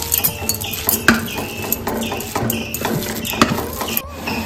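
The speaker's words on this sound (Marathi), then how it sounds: "मॅशरनं बारीक करून घेऊया आपण" A metal masher works through cooked puran filling, a sweet lentil mixture, in a pot, giving a run of irregular clinks and soft scraping thuds with no talk.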